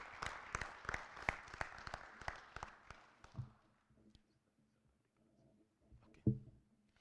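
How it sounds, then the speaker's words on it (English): Audience at a global health leadership fellowship ceremony clapping for the laureates, a handful of sharp, distinct claps in quick succession that thin out and fade after a few seconds, followed by quiet shuffling and a lone thump. "Please, a hand of applause for them."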